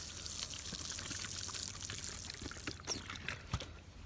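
Water is poured into a freshly cut golf cup hole on a course, a quiet, close trickling and splashing with a few soft knocks near the end.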